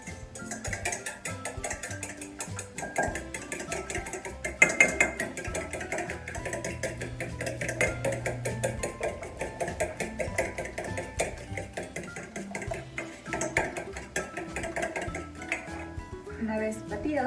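Eggs are whisked for an upside-down apple cake batter, giving a steady, rapid clatter of a utensil against the bowl that runs nonstop at close range with some background sound.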